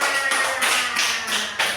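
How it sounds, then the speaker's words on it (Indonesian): A class does a rhythmic 'tepuk' hand-clap routine together, producing a run of brisk, evenly spaced group claps that sound close and fairly loud. "Tepuk tangan."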